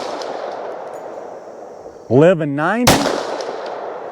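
A single 10mm pistol shot fired with Underwood Gold Dot ammunition cracks out sharply and briefly just after someone speaks, over steady outdoor background noise.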